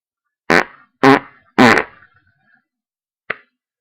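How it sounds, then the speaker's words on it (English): Three loud, close, buzzy farts in quick succession, each about a quarter second, followed after a pause by one short, faint squeak. "It's time for another fart."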